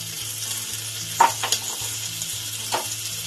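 Onions and garam masala fry in a pan for chicken stew with a steady, close sizzle, broken by a few sharp scraping stirs, while quiet music plays underneath.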